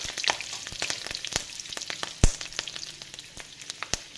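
Chopped garlic and chili frying in hot oil, giving a steady close sizzle with sharp crackles and pops throughout and one loud spatter near the middle.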